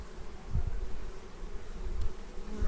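Honey bees hum and buzz in a dense, steady drone close by around an open beehive during autumn queen replacement.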